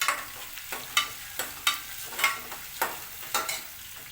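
Ginger garlic paste fries in a hot pan while being stirred for oats upma, giving a constant sizzle broken by regular scraping strokes about every half second.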